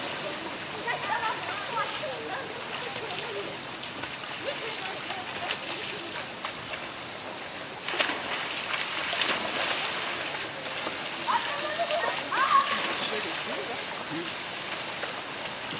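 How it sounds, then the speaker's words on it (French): Splashing water from a football game played in the water in Vietnam, a steady wash of splashes and sloshing with voices talking over it throughout. "Là, c'est le football dans l'eau."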